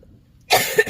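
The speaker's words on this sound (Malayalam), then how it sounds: "തൊണ്ട ചൊറിഞ്ഞുള്ള ചുമയാണ്" A single close, sharp cough from an itchy throat breaks the silence, a short harsh burst with a second small push at the end.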